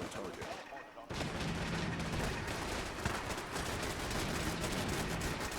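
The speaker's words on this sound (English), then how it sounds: "All of our turrets are doing good work against the stealthed courser" Automated turrets in the video game Fallout 4 keep up dense, sustained rapid fire against a stealthed courser, a loud continuous clatter of shots that swells in after a brief quieter moment.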